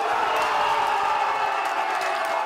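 Football fans in a stadium crowd cheer and roar after a goal, a dense, loud, continuous wall of voices with no break.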